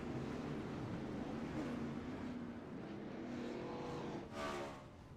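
Race cars in an outlaw pro series sprint car racing video game refiring and pulling away, a steady engine drone with a rising rev near the end, played fairly quietly.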